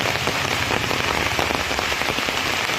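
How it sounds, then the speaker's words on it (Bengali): Heavy rain pouring down outdoors, a loud, dense, continuous patter of drops drumming on surfaces close by, with no voices. "খুব ভারী বৃষ্টি হচ্ছে এখানে"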